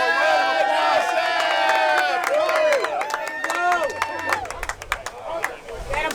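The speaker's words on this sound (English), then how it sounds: "If you want to give him a round of" A crowd at a political rally cheers and claps for a speaker being introduced, the applause mixed with loud whoops and overlapping voices, then thinning into scattered claps and chatter toward the end.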